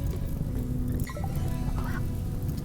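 Ducks quacking in the colony game RimWorld, a few short nasal calls over a steady low rumble of fire and ambient game sound.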